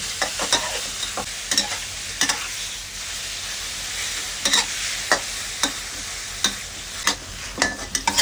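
Marinated garlic pepper pork stir-fries in a hot pan, a constant near sizzle punctuated by sharp, regular spatula knocks and scrapes against the pan, with no voices.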